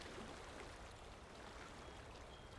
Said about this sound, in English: you are greeted by the sound of lapping water once again